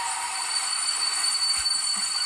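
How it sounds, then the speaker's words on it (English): An OO gauge model camera train, a small locomotive pulling a wagon, runs along a layout with a steady high-pitched motor whine and hiss and a faint low knock near the end, with no talking. "The camera train is a little bit jerky, largely because it's a small loco and a wagon that moves around a bit."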